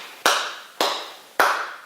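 Three sharp, separate claps ring out at a steady, slow pace, loud and close, with short reverberant tails and no voices.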